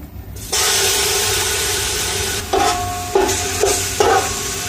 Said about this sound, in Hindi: ऑयल हमारा गर्म हो गया है। अब हम इसमें लहसुन अदरक डाल देंगे।